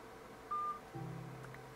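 A phone call tone sounds during Minecraft play: one short, pure electronic beep, then a faint low hum continues; quiet overall, with no voices.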